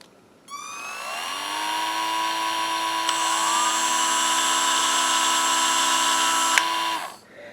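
A Dremel 8220 cordless rotary tool with a cutting wheel spins up and runs steadily at high speed, a close, loud, sustained whine that holds for several seconds before winding down, no talking.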